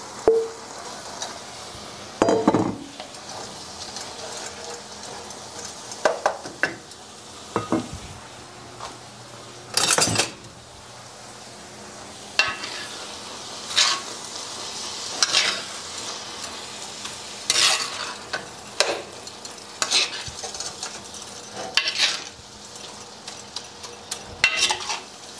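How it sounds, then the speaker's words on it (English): Onions, green pepper and garlic fry with meat for homemade meat patties, a low steady sizzle punctuated by loud intermittent clanks and scrapes of a utensil against the pan, no speech. "so now I'm going to add the vegetables back in, the onions and the green pepper and garlic"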